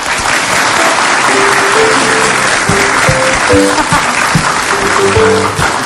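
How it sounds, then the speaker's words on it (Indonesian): Loud studio-audience applause on an Indonesian TV talk show, a thick steady wash of clapping with faint musical tones running underneath. "tepuk tangan buat Mas Anu"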